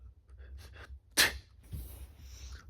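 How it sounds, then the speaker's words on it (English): A single sharp sneeze bursts out in a quiet cartoon scene, preceded and followed by soft breathy gasps and faint sniffing. "I think I've got the sneezes"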